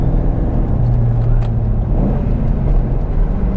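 Car engine being revved during a rev match on a manual-shift car, a steady loud low rumble that swells briefly mid-way, close by with no talk over it.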